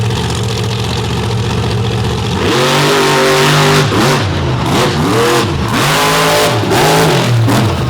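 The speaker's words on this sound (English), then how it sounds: "557 cubic inches of big block Oldsmobile horsepower." A loud racing engine, a 557-cubic-inch big block Oldsmobile in a drag racing truck, roars and revs hard, climbing in pitch through several gear shifts as it accelerates, close and overpowering.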